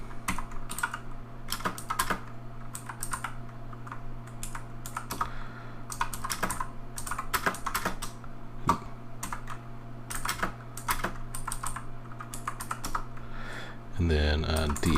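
Computer keyboard typing in quick, irregular bursts of clicks over a steady background hum, close and clear, with a short pause near the end.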